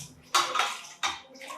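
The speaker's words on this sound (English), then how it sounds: "I'm using warm water to wash the vegetables." Green beans being washed by hand in a bowl of warm water, two quick splashing swishes close by, each followed by trickling and dripping.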